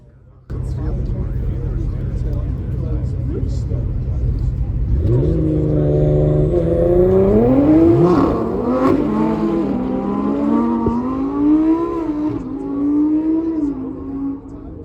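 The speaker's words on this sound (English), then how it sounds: "I also got to see this really cool Huracan versus GTR race, and I'll let the soundtrack speak for itself." A Lamborghini Huracan and a Nissan GT-R race at a time attack event. A steady drone gives way to loud, close engines revving and climbing in pitch through several gear changes, then the sound eases and holds a sustained roar.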